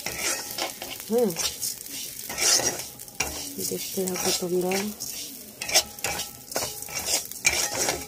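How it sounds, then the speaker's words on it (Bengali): Moong dal stirred and fried in a wok, with a spatula scraping and clinking against the pan in repeated strokes over a steady sizzle, while someone talks briefly over the cooking. "মুগ ডালটা এখন একটু ভাজা করবো।"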